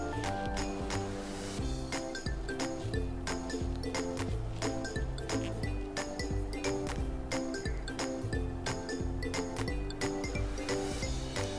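Eggs being beaten briskly for a noodle omelette, rapid rhythmic clinking of a utensil against a bowl repeating steadily throughout, close and fairly even in loudness.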